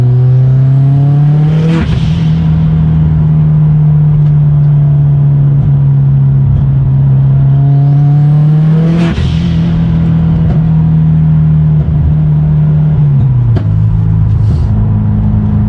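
A modified Subaru STI engine drones loudly and steadily while driving, holding a strong, even pitch with two brief whooshing surges and a shift to a lower tone near the end, close and dominant throughout.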